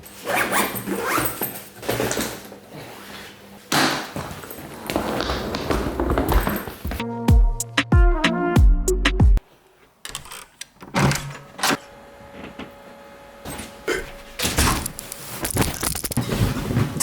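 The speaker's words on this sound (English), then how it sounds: "right now, I need to pack my bag" Rustling and clattering of packing, then a few quick zipper pulls on a bag, followed by more shuffling and handling noises, fairly close.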